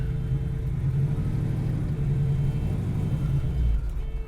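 A 1968 Chevrolet Camaro SS with a 427-cubic-inch 7-litre V8 and manual gearbox pulls away, its deep engine rumble heard close and steady, with a heavier surge near the end.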